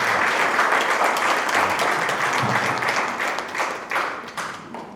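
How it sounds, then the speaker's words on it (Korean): A church congregation at a Thursday prayer meeting gives warm applause, many hands clapping steadily and fairly close, then thinning into scattered claps as the clip ends. "힘찬 격려의 박수 좀 드리겠습니다."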